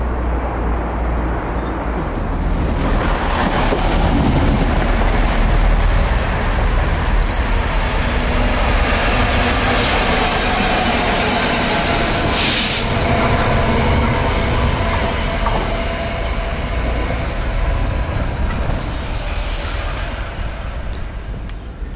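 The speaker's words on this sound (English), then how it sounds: "we're just waiting for this first Great Western service now" A Great Western passenger train pulls into a station, a loud continuous rumble of wheels on rails with low engine drone and brief squeals and hisses, steady throughout with no talk.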